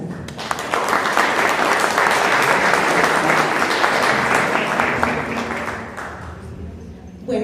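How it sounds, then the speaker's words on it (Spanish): An audience at an education conference welcomes the speakers and moderator with strong applause, a thick, full wash of clapping that swells, holds, then tapers off near the end. "Recibámoslos con un fuerte aplauso."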